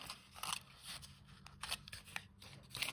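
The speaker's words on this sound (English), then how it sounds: "This got to be trimmed a little bit here." Scissors trim paper craft work inside an Altoid tin, a quick series of small close snips and crisp cutting crunches at an uneven rhythm, faint and with no talk.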